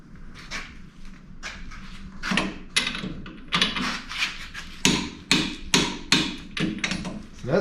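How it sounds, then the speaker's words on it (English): A torque wrench tightens ball joints on a 1983 Chevy K10 truck, giving a close run of irregular metallic clicks and knocks that grow stronger and more regular toward the end. "Now we'll get the torque wrench."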